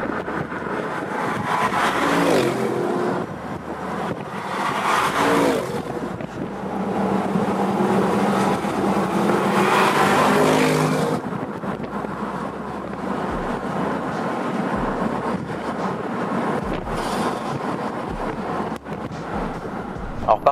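Audi RS6 with a 600-horsepower V8 biturbo accelerating hard, a rising engine roar that builds and then recedes into a steadier cruising hum, heard from inside with wind noise.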